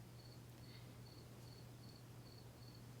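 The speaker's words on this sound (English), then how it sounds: "If you can hear crickets in the background," Crickets chirp in the early morning, a regular train of short bright pulses repeating about twice a second, steady and moderately close over a low constant hum, with no one talking.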